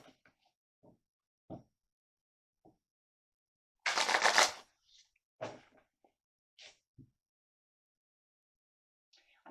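Tarot cards being shuffled and drawn by hand: one brisk riffling burst amid scattered soft taps and card flicks, close and quiet, with no talking.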